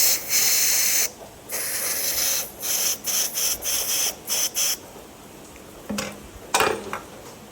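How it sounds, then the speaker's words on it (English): Aerosol spray hisses in repeated bursts into the switch of a 1985 Yamaha Vmax, a long blast first and then a run of short squirts, close and loud, with light clicks and handling noise near the end. "I'm going to spray a little bit more in there."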